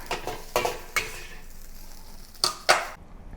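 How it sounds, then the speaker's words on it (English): Salted egg fried rice stir-fried over high heat, with a soft background sizzle broken by several sharp scrapes and clacks of a spatula against the wok, close and intermittent. "The key is to stir fry it over high heat so that every grain of the rice will be slightly charred on the outside"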